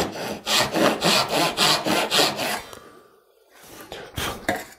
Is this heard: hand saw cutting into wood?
yes